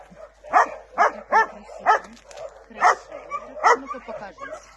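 Dogs give a run of sharp, evenly spaced barks and yips at close range, about seven or eight in quick succession, with no words spoken between them.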